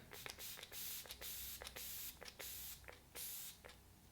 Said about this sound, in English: let's go ahead and test out this setting spray